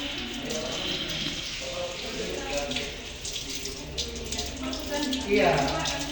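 A tap runs into a sink while endophytic fungus plant samples are washed, a continuous close stream with shifting splashes that swells near the end, and people talk over it.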